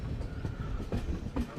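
A train rolls into Kudachi railway station with a low rumbling drone and faint rhythmic wheel thumps on the rails, heard from on board at moderate loudness.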